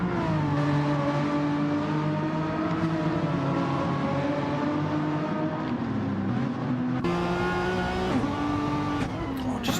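A Renault Megane Trophy race car in a racing video game at Autopolis, its engine droning steadily and loudly while the throttle is feathered, the pitch wavering and shifting with a sudden step near the end.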